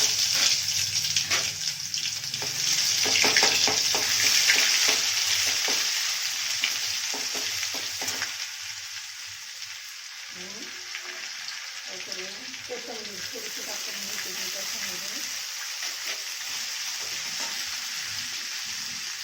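Cumin, mustard seeds and garlic paste fry in hot oil in a pan for a traditional Marathi golyachi aamti, a steady close sizzle that eases after the paste goes in, while someone talks over it.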